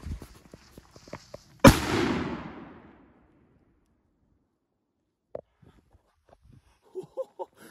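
A 30 gram Dum Bum firecracker goes off outdoors with one sharp, loud bang that trails away over a second or so, followed by silence and a few faint distant pops and knocks.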